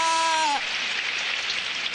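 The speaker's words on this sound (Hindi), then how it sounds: "अरे ये बारिश।" Steady rain patters on a surface in a cartoon scene, hissing continuously after a brief sustained tone fades out at the start.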